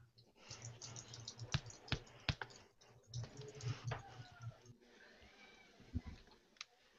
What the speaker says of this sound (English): I've been typing.